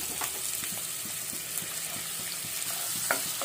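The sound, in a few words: chopped onion frying in hot oil in a pan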